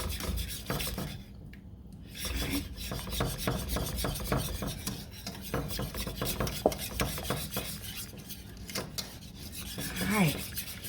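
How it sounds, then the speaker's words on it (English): Whipping cream being stirred into a tater tot mixture, giving a continuous rough rasping and scraping of a utensil against the bowl, close and fairly loud with an uneven churning rhythm. "Get that stirring."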